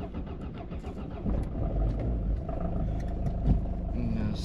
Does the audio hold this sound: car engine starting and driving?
yes